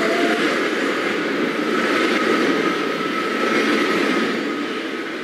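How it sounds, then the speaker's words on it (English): A Brooklyn-bound N subway train at Whitehall St - South Ferry station in New York, a loud, steady rumble of rolling cars with a thin high wheel squeal running through, close by and continuous. "This is a Brooklyn Bound N train"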